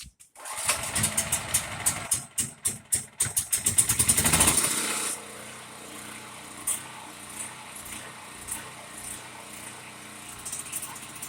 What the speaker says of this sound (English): The reason that we were surging like that is because we didn't let the carburetor fill up.